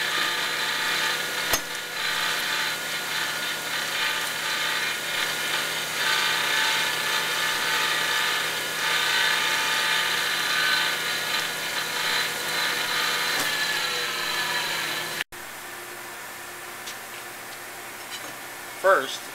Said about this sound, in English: We are now at the point that the saw is ready for side grinding.